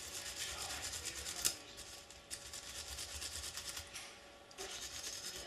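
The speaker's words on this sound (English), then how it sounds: "to get all that carbon off, you gotta really scrape it a lot" A brush scrubs carbon fouling from a chrome and titanium gold Desert Eagle pistol, giving close, continuous rasping strokes with a sharper scrape near the start and steady abrasive rubbing throughout.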